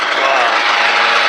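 A 1981 Ski-Doo Elite side-by-side snowmobile with a rear-mounted 462 water-cooled engine, radiator, fan and alternator idles steadily, a loud, close, continuous buzzing drone with no breaks.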